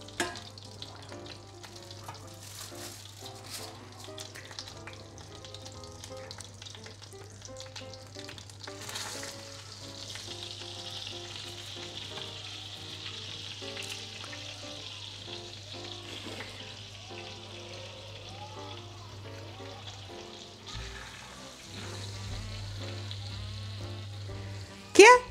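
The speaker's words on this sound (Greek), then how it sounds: "το λάδι μας τσιτσιρίζει" Chicken fillets dusted in cornflour fry in hot oil, giving a steady close sizzle with faint stirring clatter throughout, broken by a brief dip near the end.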